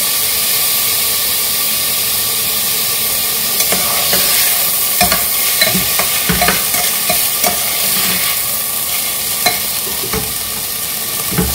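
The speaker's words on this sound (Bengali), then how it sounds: "এলাচ আর লবঙ্গটা দিয়ে দিলাম, এর সাথে ভাজা হয়ে যাবে।" Pulao rice fried with cardamom and cloves and stirred in a pan, giving a steady sizzle with repeated scraping stirs and clacks throughout, with no voices.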